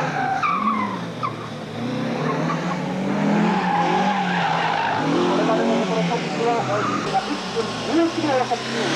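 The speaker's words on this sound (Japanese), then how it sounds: "高速からのブレーキングをまとめて" A gymkhana race car at a 1988 JMRC Kanto event at Kanetsu Sportsland brakes hard from high speed, tires squealing and skidding with engine noise, continuous and fairly loud beneath a commentator talking throughout.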